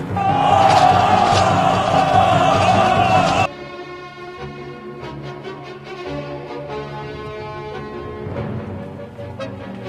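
A large Xiongnu crowd roars and cheers for the Han emperor as the chanyu Huhanye welcomes Han envoys, a loud massed shout lasting a few seconds before dropping off into quieter tonal sounds.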